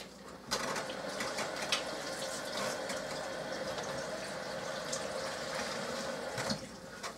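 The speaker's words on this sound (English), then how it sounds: "let me wash my hands." A kitchen tap runs steadily as hands are washed under the stream, a close, continuous splashing hiss with small shifts as the hands move through the water, no speech.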